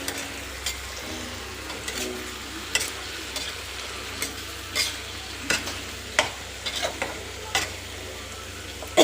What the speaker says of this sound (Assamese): ভেন্দিখিনি ফ্ৰাই কৰি দিম